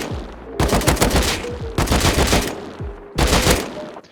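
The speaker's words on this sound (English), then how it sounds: "What I like to do is just practice my targets by shooting my first 3 bullets and just switching targets instantly." Automatic weapon fire in the game Rust comes in three loud, close bursts, each a rapid string of shots lasting under a second, separated by short pauses during recoil practice on targets.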